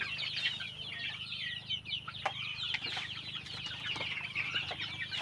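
Young broiler chickens crowded together in a small pen give a constant chorus of high cheeps and clucks, moderately close, with a few sharper knocks throughout.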